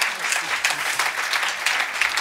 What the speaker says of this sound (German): auch Applaus für den Lukas